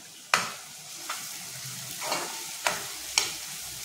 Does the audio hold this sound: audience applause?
no